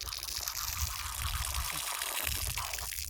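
Water runs from an outdoor spigot set in muddy ground at a campground in Dinosaur National Monument. It makes a steady, close rushing pour that carries on through the whole stretch, with no voices over it.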